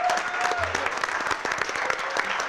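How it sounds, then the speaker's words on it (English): Applause from an audience at a public conversation event in Selma, steady dense clapping filling the whole stretch at moderate loudness. "Give her a round of applause."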